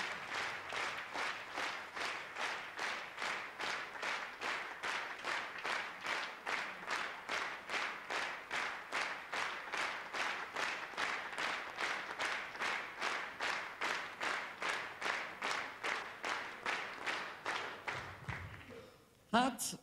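Concert audience in a Budapest cinema hall applauding the Cluj Hungarian State Opera ballet company in steady rhythmic unison claps, moderately loud and continuous for nearly twenty seconds before a brief final rustle.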